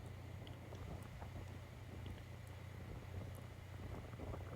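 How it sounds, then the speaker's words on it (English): Steady wind buffets a Florida beach, a continuous low rumble of gusts and microphone roar that holds at an even, fairly loud level throughout with no voices. "So it's windy."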